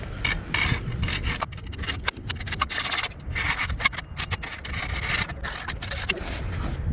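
A groove is cut into a bolt clamped in locking grips during a Lexus IS200 ignition lock repair, producing close, repeated rasping strokes in an uneven rhythm.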